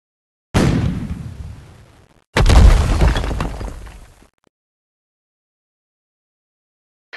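Tanks firing shells in the mobile game Tank Stars: two loud, booming blasts about two seconds apart, each with a long rumbling decay, followed by silence.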